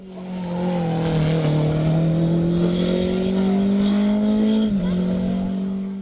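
A Simca Rallye 2 rally car climbs at the Mont-Dore hill climb, its engine holding a loud, sustained drone that rises slowly in pitch before a quick gear-change dip near the end.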